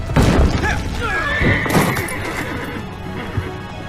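A horse in the Assassin's Creed video game neighs loudly and whinnies over clip-clop hoofbeats and crashing thuds as it dies, a dense, chaotic game mix with no talking.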